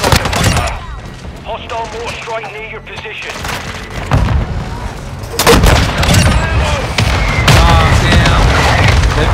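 Heavy booms from mortar strikes in a first-person shooter game thump and crack repeatedly amid scattered gunfire, loud and close, while a voice talks over much of the action.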